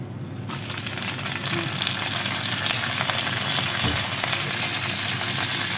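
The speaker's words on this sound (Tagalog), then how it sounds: "yung natirang mantika dun, lulutuin natin yan yung vegetables, which is cabbage" Chopped cabbage fries in leftover cooking oil in a pan, giving a steady, close, dense sizzle and crackle that holds evenly throughout with no talking.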